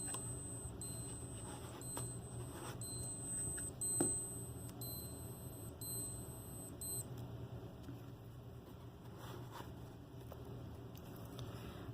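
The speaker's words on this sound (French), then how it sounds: "Ah, vous entendez l'alarme?" Wristwatch alarm from a watch collection: faint, high electronic beeps repeat in quick patterned bursts for several seconds over a soft background hiss.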